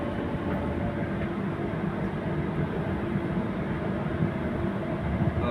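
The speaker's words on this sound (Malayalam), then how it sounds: "هذا القطار متجه إلى لوسي QNB" A Doha metro train runs along the track with a steady, close rumble and rolling hum inside the carriage, continuous throughout without talk.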